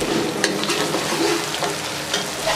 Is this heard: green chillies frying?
yes